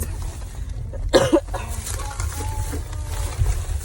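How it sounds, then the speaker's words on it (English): A single short cough bursts out nearby against a low background hum, followed by quiet ambient noise. "I have a slight cough"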